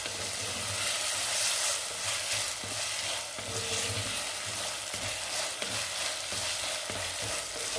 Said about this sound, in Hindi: प्याज लहसुन अदरक साथ भून रहा है। अब इसमें टमाटर शामिल कर देते हैं।